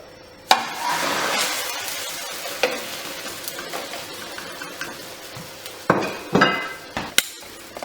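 A tortilla slid off a fish slice back into a hot pan, with a sudden loud clatter followed by steady sizzling frying and several more sharp utensil knocks toward the end.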